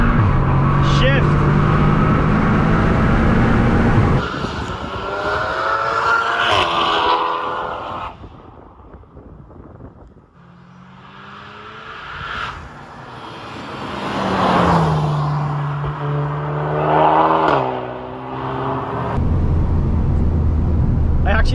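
A stage 3 tuned Audi S3 8V of about 530 bhp accelerates hard through the gears, the engine note rising in repeated sweeps broken by gear changes, loud and close from inside the car, with someone talking over it.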